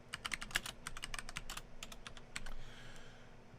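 Fingers type Python code on a computer keyboard, a quick uneven run of crisp close key clicks with short pauses between bursts, quiet room, no voices.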